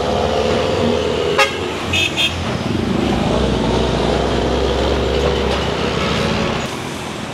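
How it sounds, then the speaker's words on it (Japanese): Morning rush-hour street traffic in Manila, with motorbikes and tricycles passing, a continuous close engine rumble, and several short car horn toots in the first half. "さあ、朝の交通ラッシュ。"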